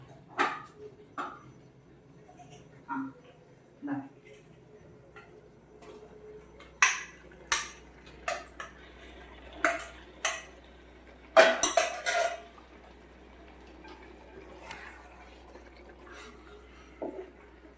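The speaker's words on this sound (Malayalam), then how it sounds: "നന്നായിട്ട് ഇളക്കി ഇങ്ങനെ യോജിപ്പിക്കുക" A spoon knocks and scrapes against a cooking pot of fried chicken in scattered clinks and taps, with a low steady hum underneath.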